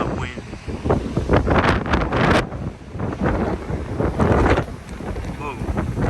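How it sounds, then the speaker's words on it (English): Strong wind gusts before a storm under a shelf cloud in Pullman buffet the microphone, a loud roaring rumble that surges and fades in waves with no clear speech. "strong gusts of wind."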